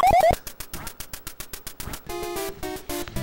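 Electronic ducks quack in the NES Duck Hunt game, played with the Zapper light gun: a rapid run of chiptune quacks and flapping blips, then a buzzy descending jingle, loud and in the foreground with no talk.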